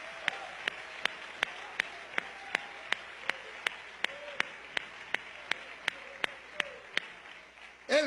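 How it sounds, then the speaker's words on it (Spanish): A church congregation claps in steady unison during a sermon, sharp evenly spaced beats about three per second over a murmur of voices, ending with a louder burst. "Denle un aplauso al Señor por eso."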